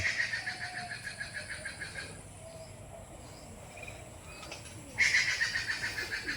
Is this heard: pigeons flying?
yes